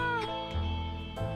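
A cat meows at the bunker hatch in the video game 60 Seconds, two drawn-out, tonal meows close and clear, each followed by a low harmonic hum, with no talking.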